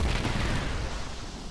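Explosions in the action video game Just Cause 3 make a loud, rumbling blast with crackling debris that fills the short moment and slowly tails off.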